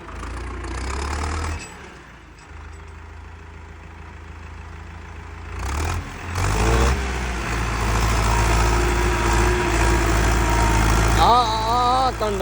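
A heavy 6055 tractor engine with its fuel pump turned up idles loudly, then revs up and holds a strong, rising roar, with a few shouts over it.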